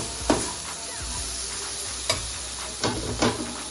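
Mint leaves sautéing in a pan for a grandmother-style mutton curry, a soft steady sizzle with a few sharp scraping stirs of a spoon against the pan, close and alone.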